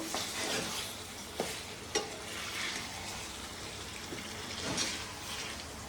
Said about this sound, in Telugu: ఇది ఒక్కసారి కలుపుకుందామండి